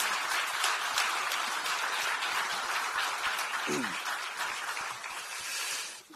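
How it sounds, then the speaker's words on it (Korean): A room of newly elected Democratic Party lawmakers in Korea applauds a National Assembly speaker candidate. The clapping is dense and continuous, with a brief voice over it, and it tails off at the end. "여러분 뜨거운 박수로 가져주시기 바랍니다."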